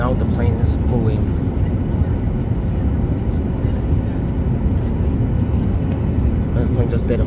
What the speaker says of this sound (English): Now the plane is moving.